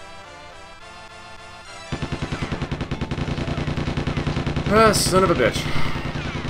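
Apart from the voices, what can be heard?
gunfire from enemy soldiers in the video game GoldenEye-style Goldfinger 64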